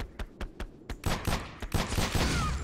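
Rapid gunfire from a Glock pistol in a video game, a run of sharp close shots in quick bursts that grow denser and louder toward the end.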